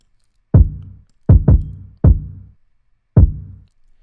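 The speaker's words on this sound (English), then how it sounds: "The next thing I have right here are the kicks." Kick drum from a hip-hop style beat, EQ'd with boosted sub lows around 30 Hz and presence near 2 kHz, mixed loud: five punchy, booming hits with a quick double hit early, each decaying into a short low tail, alone without other instruments.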